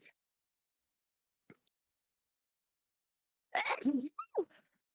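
A single sharp sneeze breaks a near-silent stretch, followed by a quick gasp or exclamation, close and loud.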